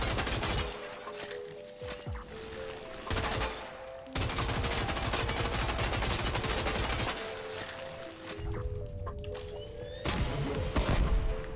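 Weapon fire from the Warframe Salta, including its alternate fire, comes in loud sustained volleys and crashing bursts separated by short pauses, with tonal game effects layered in.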